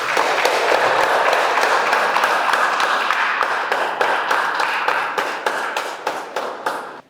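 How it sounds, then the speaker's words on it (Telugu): An audience applauds a meditation master at a full moon meditation gathering, dense sustained clapping that thins toward the end into scattered individual claps. "ఆయనకి గట్టిగా చప్పట్లు కొడదాం ఒకసారి"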